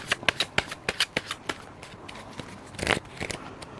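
Tarot cards are shuffled and drawn by hand: a quick run of crisp riffling clicks and snaps, then a pause and a louder flurry of card handling, close and fairly quiet.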